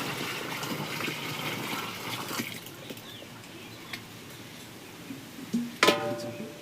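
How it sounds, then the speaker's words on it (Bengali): Muddy soil-mixed water pours and gushes into a dam, a rushing flow that eases off partway, followed by a few splashes and a brief bird call. "তো আমাদের মাটি গোলা জলটাকেও আমরা একইভাবে ড্যামের মধ্যে দিয়ে দেব।"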